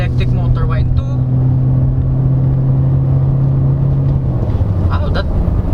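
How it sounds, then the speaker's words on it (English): A Toyota Corolla Cross Hybrid G in power mode pulls away, a steady engine hum blending with an electric motor whine. Faint talk comes in at the start and near the end. "We can hear the electric motor whine too."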